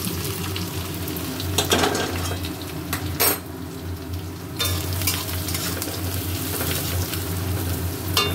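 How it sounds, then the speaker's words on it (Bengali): Onions dropped into hot oil in a kadai with cumin and chillies, a continuous loud sizzle and crackle with occasional scraping stirs and clinks of a spatula against the wok, close up. "এবারে পেঁয়াজ দিয়ে দিই।"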